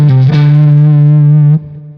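An electric guitar with heavy distortion, played through a Kemper Profiler, holds a single low sustained note with a bright pick attack. The note rings steadily, then stops sharply, leaving a faint tail.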